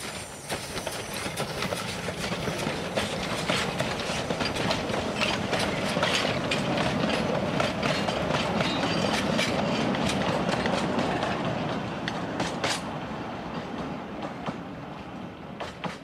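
A 009-scale model protected Simplex trench railway locomotive runs steadily along a WW1-style exhibition layout, giving a continuous close rumble with fine rhythmic clicking from the wheels, easing slightly toward the end.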